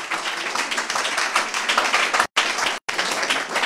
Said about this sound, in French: on peut tous les applaudir, il y en a certains dans la salle, donc merci à tous les partenaires.